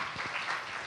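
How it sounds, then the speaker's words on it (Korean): A church congregation at a Friday worship service breaks into a brief burst of clapping lasting under a second, dense and moderately loud. "박수!"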